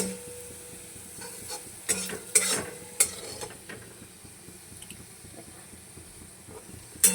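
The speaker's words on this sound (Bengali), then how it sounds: "বাবুনের আলু ভাজা" Potatoes frying in a pan on a gas stove, stirred with a steady low sizzle and sharp scraping clatters near the start and end, close and moderately loud with no talking.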